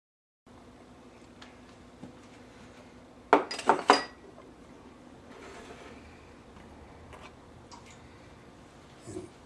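Seasoning and bouillon cubes drop into a cast iron pot for ham and bean soup, giving a short cluster of clinks and rattles around the middle, then a quieter faint clatter near the end.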